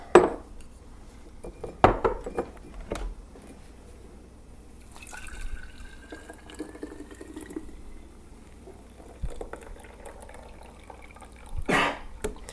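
Lemon ginger tea poured through a small strainer into a jar, with a soft liquid trickle and drips broken by a few sharp clinks of metal and glass near the start and end, fairly quiet overall.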